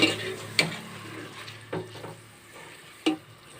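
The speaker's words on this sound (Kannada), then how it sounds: "ಮೊಸರು ಸೇರಿಸ್ಬಿಟ್ಟು ನೋಡಿ ಈ ಥರ ಮಿಕ್ಸ್ ಮಾಡ್ಕೋಬೇಕು" Avalakki (poha) mixed with curd is stirred in a pan, a soft wet scraping broken by a few distinct clacks of a spoon against the metal, close and without talk.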